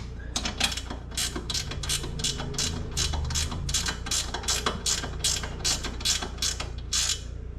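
A standard socket wrench ratchets on the spring bolts of a Porsche 911 Carrera S (991.2), giving a fast, even train of sharp metallic clicks in repeated strokes, close and clear.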